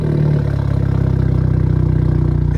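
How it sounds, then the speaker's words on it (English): A 2024 Hyundai Elantra N with a Borla exhaust and catless downpipe idles loudly with a deep, rumbling exhaust burble, steady and throaty after a brief initial surge. "first start. Let's go. Borla exhaust, catless downpipe."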